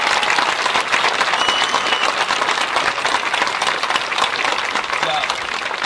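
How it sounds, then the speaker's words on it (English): A graduation commencement audience claps for the senior chamber singers, producing loud, dense applause that fills the room throughout, with faint crowd voices underneath. "How about another round of applause for our senior members of the chamber singing?"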